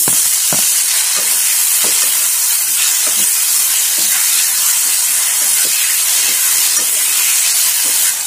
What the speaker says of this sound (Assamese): বিলাহীখিনি অলপ ভাজি লোৱাৰ পিছত আমি এড কৰিম